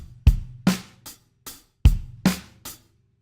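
A drum kit plays a Grade 2 rock and pop groove on hi-hat, bass drum and snare. Seven close, crisp hits fall in a steady pattern, each ringing briefly before the next, with no talking.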